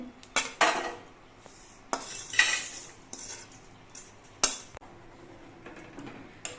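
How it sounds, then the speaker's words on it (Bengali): Fried spices for dalma are scraped out of a pan into a bowl, with a spatula giving irregular metallic clanks and scrapes against the cookware. A faint hiss sits between the sharper knocks, and no one speaks. "মশলাটা ভাজা হয়ে গেছে এবার এটা আমি একটা বাটির মধ্যে ঢেলে নিচ্ছি"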